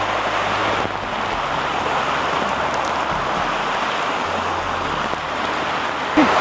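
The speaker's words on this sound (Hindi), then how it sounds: "It is raining very very heavy." Heavy monsoon rain near Lonavala, pouring down as a loud, continuous hiss and patter that stays unbroken across the whole stretch with no voices.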